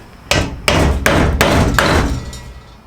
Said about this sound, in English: and a little bit of hammering.